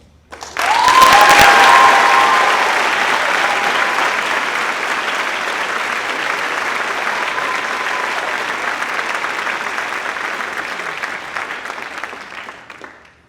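Sustained applause from a middle school eighth grade graduation audience, a loud dense burst at first that settles into steady clapping and fades out near the end.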